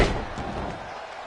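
A single heavy slam lands as a wrestler's drop kick connects in WWE 2K20, a dull, close thud with a short rumbling tail.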